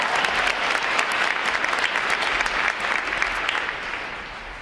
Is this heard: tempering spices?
no